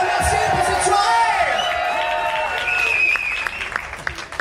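Live concert audience at the Magic Mirrors venue applauding and cheering loudly, a dense wash of clapping with whoops and shouts on top that thins slightly toward the end.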